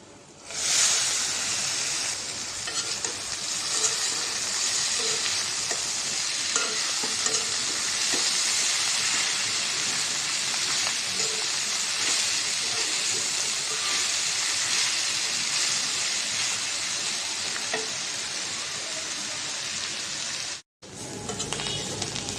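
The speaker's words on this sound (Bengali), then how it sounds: "আর করলা ভাজিটা হোক" Bitter gourd (karela) with potatoes fries in a pan, a steady loud sizzle running throughout, with occasional scrapes and clicks of stirring; a brief drop near the end.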